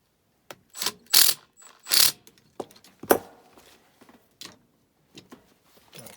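Ratchet tightening a mount on an Evergreen ECM motor in an ICP Comfortmaker unit, with several short clicking ratchet bursts and metallic clatter, close and intermittent with quiet gaps.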